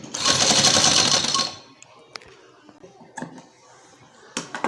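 Sewing machine stitching along the folded edge of a trouser hem, a loud rapid mechanical run for about a second and a half, then stopping, followed by faint clicks and handling noises.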